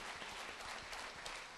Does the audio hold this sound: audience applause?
yes